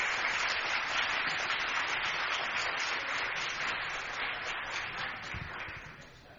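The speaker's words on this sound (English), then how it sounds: "One more round of applause for our student winners." An audience applauds student award winners, dense continuous clapping from a crowd that holds steady and then slowly fades toward the end.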